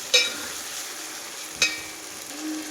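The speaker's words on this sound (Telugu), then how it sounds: "బాగా అయితే ఇట్లా వేగాలండి" Chicken curry masala with okra frying in a pan gives a faint, steady sizzle, broken by two sharp scrapes of a stirring spoon.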